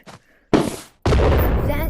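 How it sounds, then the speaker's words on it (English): Thunder Spear explosions in a video game: two loud, booming blasts about half a second apart, each a sudden broadband burst, the second sustained and rumbling to the end, with faint voice traces beneath. "You can just load up with this, and it makes a way bigger explosion."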